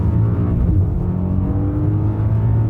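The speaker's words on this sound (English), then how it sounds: "I like the downshift from the V8" Deep V8 of a BMW M5 Touring G99 during downshifting, a steady loud rumbling engine drone with layered harmonics, heard close with no voices.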